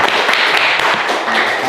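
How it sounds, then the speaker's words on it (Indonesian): A class of students gives a short burst of dense clapping in a schoolroom, close and loud, lasting under two seconds with no voices standing out. "ya tepuk tangan dulu buat kita semua"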